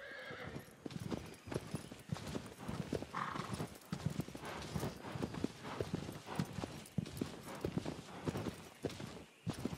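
Horse hooves clip-clop rapidly in a steady galloping rhythm within the video game Shadow of the Colossus, joined by an occasional whinny, close and fairly loud with no talk over it.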